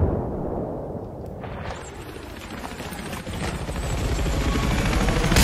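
Attack helicopter spooling up in the video game Battlefield 3: a loud, dense rotor and engine roar that swells and grows brighter over several seconds, with gunfire-like bursts mixed into the din.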